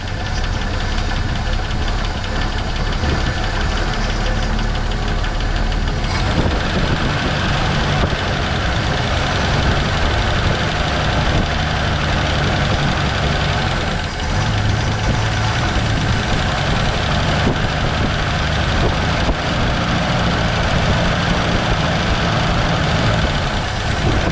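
A 1970 Ford Falcon engine that sat in a junkyard for 28 years runs steadily at idle with a loud, continuous low rumble and a knocking quality, heard close and alone for the whole stretch.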